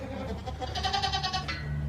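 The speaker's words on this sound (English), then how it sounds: "get in with the goats so we can see how they act" Goats in a farm pen bleat nearby, one wavering, drawn-out cry rising over a steady background rumble.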